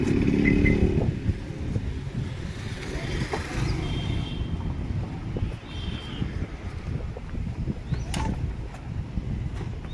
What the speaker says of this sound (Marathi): इकडे गाड्या येतात.